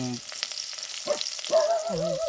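Onion, tomato, garlic and ginger sautéing in a pan outdoors on a farm, a steady frying sizzle with short stirring sounds, overlapped by brief voice-like tones.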